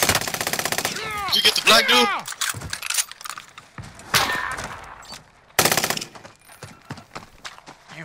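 Gunfire in Call of Duty: Modern Warfare on Rebirth Island, rapid machine-gun bursts and sharp single shots mixed with close, excited player talk over voice chat.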